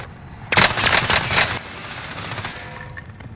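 A loud close burst of automatic gunfire in the battle royale game Warzone, roughly a second of rapid shots, followed by quieter distant rattling and ambient game noise.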